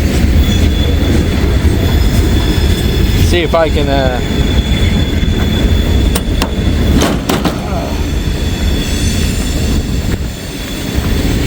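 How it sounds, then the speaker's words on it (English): A train rumbles past in Hamilton on a rainy morning, loud and close with a steady heavy roar of rail cars, brief wheel squeals and clicking joints throughout; someone speaks briefly partway through. "I'm recording this train for y'all"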